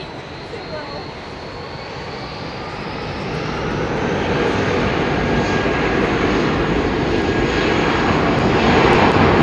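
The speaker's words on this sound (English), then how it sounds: "EK4 is now taxiing." Emirates airliner EK4 taxiing at London Heathrow Airport, a loud, steady jet engine roar with broad rushing noise that slowly swells louder, heard alone without talk.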